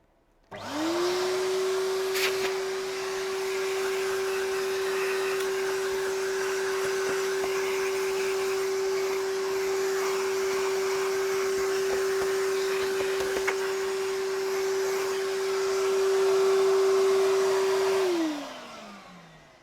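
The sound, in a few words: vacuuming dust off a Hoover Junior vacuum cleaner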